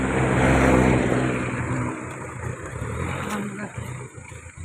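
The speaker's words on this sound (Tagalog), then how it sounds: "Truck." A truck passes on a dusty roadside while someone walks along it. A loud engine roar swells close by, then fades away as it moves off.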